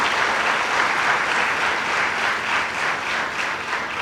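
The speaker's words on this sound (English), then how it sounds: "You can see I didn't prompt the applause." Sustained applause from a large audience at an international agronomy congress, dense and steady at close range throughout with no voices.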